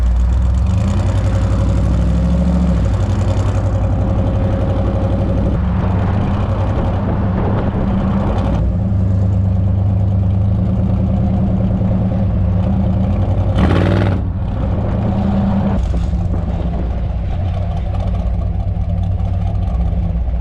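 Engine of a classic car, a 1951 Ford Custom or a 1956 Chevy Bel Air, running while being driven on a road test: a loud, steady low rumble that carries on for the whole stretch.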